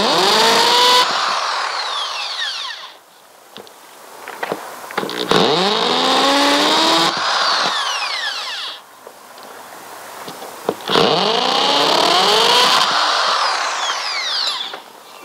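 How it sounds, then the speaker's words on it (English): A power drill with a heavy-duty bit whines in long bursts into hard stucco, pitch bending as it bites, with short pauses and clicks between runs, loud and close. "since this is hard stucco-y stuff, we're going to use a fairly heavy-duty drill bit"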